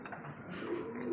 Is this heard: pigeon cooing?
yes